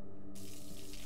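A shower runs in the horror game Observer, a steady rushing hiss of falling water heard faintly and continuously for about a second with no one speaking.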